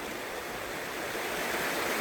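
Fast-flowing water of the Carbon River rushes in a steady, broad hiss, close and continuous with no other sounds.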